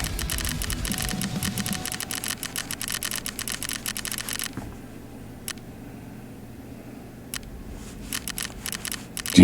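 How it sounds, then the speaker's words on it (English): Rapid computer keyboard and mouse clicking in a Tarkov gaming session, dense clatter at first, then sparse isolated clicks over quiet background with game sound. "Do you guys not hear me clicking?"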